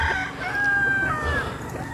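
A rooster crows in one long, drawn-out call among fine breeding chickens on a farm, fairly close, with faint clucking and background noise and no talk.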